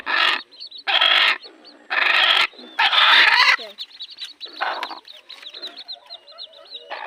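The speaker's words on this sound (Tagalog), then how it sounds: "Yan mga sisiyo niya" Red junglefowl hybrid hen with her chicks: loud, close bursts of clucking and calling, followed by a run of thin, high chick peeps over a quiet background.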